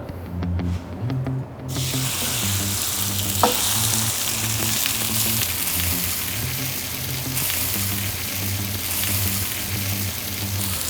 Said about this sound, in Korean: 여기다는 올리브 오일 안 쓰고 일반 식용유 조금만 구워볼까요?